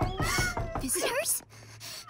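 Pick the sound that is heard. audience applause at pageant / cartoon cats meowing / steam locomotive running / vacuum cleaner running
cartoon cats meowing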